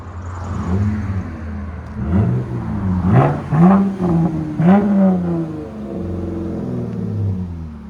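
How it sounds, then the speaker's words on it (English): A RAM pickup's 3.6L V6 revs repeatedly through an aftermarket muffler, close and loud, the deep throaty exhaust rising and falling in several blips before settling back to idle. "What do you guys think of the sound for a V6?"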